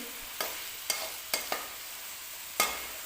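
Punjabi-style carrot pickle masala stirred in a pan with the heat off, a few sharp spoon scrapes spaced apart over a faint low sizzle, close and alone.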